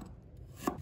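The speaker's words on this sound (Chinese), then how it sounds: "再准备一块去皮的生姜，把它切成片" A knife slicing peeled fresh ginger on a cutting board, two quiet, crisp chops landing near the end after a moment of low background hum.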